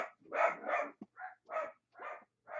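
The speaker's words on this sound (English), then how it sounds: "I don't know what they're barking at." Several dogs barking in quick, uneven bursts, about six barks spread across a couple of seconds, fairly close and loud with short gaps between them, indoors at home.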